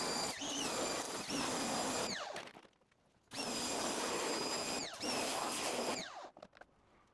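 A power sander on a car's front bumper whines loudly in two long bursts, its pitch sliding as it spins up and winds down, with a short quiet gap between.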